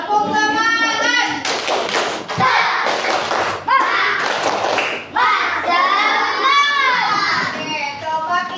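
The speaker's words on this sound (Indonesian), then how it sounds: "kita tepuk semangat lagi ya. Tepuk semangat." Schoolchildren in an elementary classroom perform a rhythmic spirit clap, bursts of sharp group claps and taps alternating with their chanting voices, loud and close.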